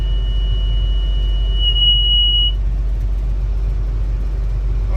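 A Case 2388 combine harvester engine idles with a deep, steady rumble, while a shrill alarm tone rings briefly over it and then cuts out.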